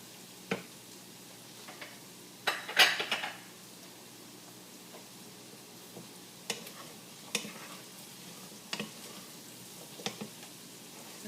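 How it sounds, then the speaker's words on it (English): Beans tipped into a pot and stirred for vegan menudo: sparse, scattered clicks and scrapes of a spoon against the pot, with one busier burst near the start, over a faint low background, and nobody speaking. "I'm going to add the beans"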